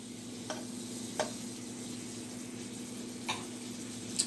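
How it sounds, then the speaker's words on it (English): Butter sizzling in a pan while French toast fries, a quiet steady hiss with a few soft clicks of a utensil scattered through. "And then I will put a little bit more butter into the pan in the middle"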